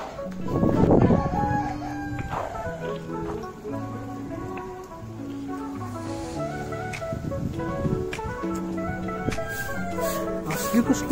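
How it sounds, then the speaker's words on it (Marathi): A rooster crows repeatedly at a temple stop near horses, its drawn-out calls close and clear amid other fowl chatter and a soft patter of background noise. "हे कोंबडा आहे."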